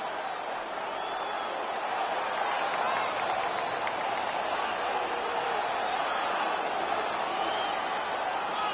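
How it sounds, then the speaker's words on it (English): A hockey arena crowd roars after a fight at an international tournament game involving Team USA, a dense, loud, sustained wash of cheering and applause with no break. "The crowd is so pumped right now."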